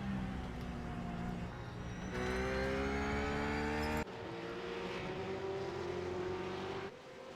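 RUF supercars race at Spa-Francorchamps in the iRacing sim, with engine tones climbing and shifting in pitch through gear changes, loud and continuous with abrupt cuts as the sound changes between cars.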